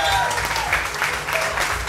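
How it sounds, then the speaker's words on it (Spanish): An audience at a live concert applauds the violinist, a steady, dense wash of clapping with a few faint tonal traces from the stage beneath it. "Un aplauso, por favor."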